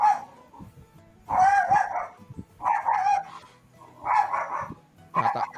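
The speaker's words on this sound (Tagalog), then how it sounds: "may makulit na aso yan dyan eh" A dog barks repeatedly in four or five loud, close bursts of several yaps each, with brief quieter pauses between them.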